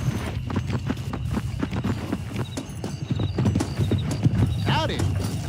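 Horse hooves from the Red Dead Redemption video game beat a quick, steady galloping rhythm up close, with a whinny near the end and voices talking over it.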